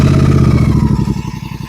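Royal Enfield Continental GT 650 motorcycle in neutral, its twin-cylinder engine idling loud and close with a steady throbbing, lumpy pulse and a slight rev that eases back down.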